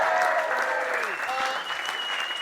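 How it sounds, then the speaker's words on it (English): Applause from a comedy show audience on a 2012 comedy tour, steady clapping running throughout underneath a host talking loudly over the crowd. "Give a round of applause as well."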